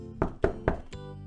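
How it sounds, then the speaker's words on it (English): Three firm knocks on a door in quick, evenly spaced succession, close and fairly loud, followed by a fainter fourth tap, with no voices. "she heard the knock on the door"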